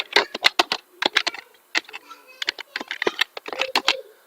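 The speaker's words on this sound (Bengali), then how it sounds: "আমি আমার চ্যানেলের নামটা লিখছি, GolDfish" Rapid clatter of computer keyboard keys as a channel name is typed, close and fairly loud, in irregular bursts of keystrokes with short pauses between them.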